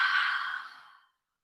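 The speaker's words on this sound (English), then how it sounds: "Take a big inhale and a big exhale through the mouth." A single long, breathy exhale through the mouth during a yoga session, close and clear, lasting about a second and fading out into silence.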